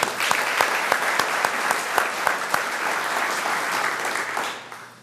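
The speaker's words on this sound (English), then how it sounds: "everyone you heard about and from deserves a round of applause this morning for a job well done" A morning community audience in Boardman applauds a job well done, warm continuous clapping from a crowd with a few sharp nearby claps standing out, fading away in the final second.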